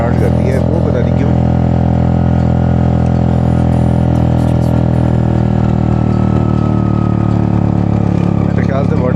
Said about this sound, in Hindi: बाइक ने थोड़ी मिसिंग स्टार्ट कर दी है